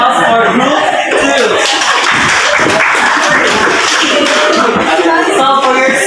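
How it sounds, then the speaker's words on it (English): A group gets a round of applause in a classroom presentation setting, steady clapping from a crowd of students lasting throughout, with some background chatter mixed in. "let's give round of applause for group"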